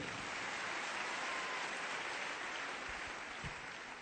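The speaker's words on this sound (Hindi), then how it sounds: "एक जोरदार ताली इनके लिए।" Audience applause at a family business event in India, a dense, steady wash of clapping from a crowd that holds evenly throughout and fades slightly toward the end.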